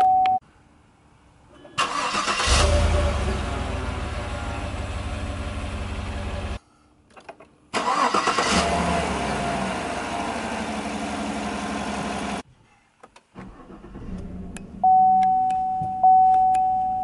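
A hefty V8 vehicle's engine starts twice, each time cranking into a loud steady idle that runs for several seconds before shutting off, with a warning chime and electronic tones between.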